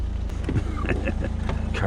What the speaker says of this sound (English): Car shooting off without me.